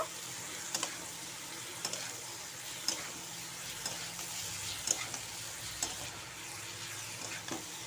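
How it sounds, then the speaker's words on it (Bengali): Green cauliflower and potato pieces stirred into frying spices in a pan produce a steady soft sizzle broken by evenly spaced spoon scrapes roughly every second, close and without voices. "দিয়ে দেব ফুলকপি আর আলুগুলো, মিক্স করে নেব"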